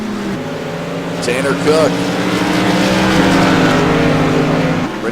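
Modified race cars roar around Thompson Speedway late in a race, engines droning loudly and steadily with a rising pass partway through, under continuous commentary from an announcer.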